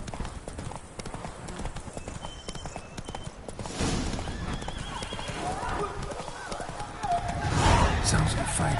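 Hooves of Roach, a horse in The Witcher 3, clip-clop briskly and continuously, with a whinny toward the end and game ambience underneath.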